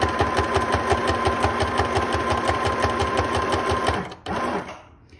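A loud, close sewing machine stitching a seam on a drawstring backpack runs at a fast, steady mechanical rhythm, then stops near the end with a brief clunk and fades out.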